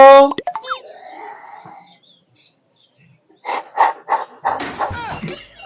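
A voice mimics a dog, giving a quick burst of high yelps and barks at the start, then a run of sharp, loud bark-like calls near the end, with quiet between.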